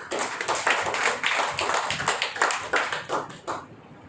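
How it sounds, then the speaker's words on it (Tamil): Church congregation clapping hands during a Tamil sermon on the parable of the friend at midnight, a steady run of close, loud handclaps over about four seconds that stops abruptly at the end. "கைத்தட்டி ஆண்டவர் மகிமைப்படுத்தலாம்."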